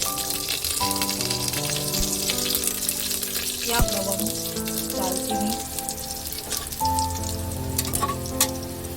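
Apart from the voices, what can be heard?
whole spices crackling in hot oil tempering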